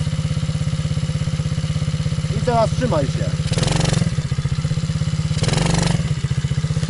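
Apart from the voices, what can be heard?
MRF 80cc kids' motorcycle engine idling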